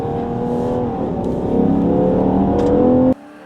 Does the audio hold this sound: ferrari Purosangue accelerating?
yes